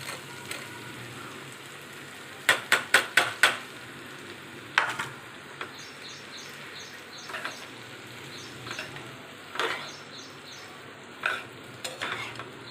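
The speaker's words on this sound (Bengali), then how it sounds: "এবার এই যে সেই সোয়াবিনগুলো ঢেলে দিচ্ছে" Soybean chunks tipped into a pan of softened curry base, giving a burst of clattering, sizzling hits around the middle, then scattered softer stirring clinks and light frying crackle, close by with no talk.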